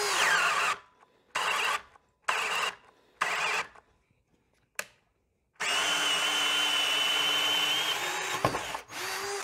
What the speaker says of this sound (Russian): мы будем сверлить на второй скорости